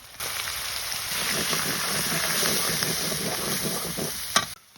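Garlic, ginger and cumin paste fries in hot oil in a pan with a steady, close sizzle and some stirring scrapes, ending with a sharp clatter before the sound drops away.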